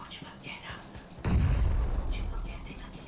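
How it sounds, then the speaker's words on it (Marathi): In BGMI, a Mini rifle fires from long range as a sudden burst of muffled, distant-sounding booming shots with a rumbling low tail, preceded by quieter rhythmic game ambience. "लांबनं मिनी मारतोय कोणतरी."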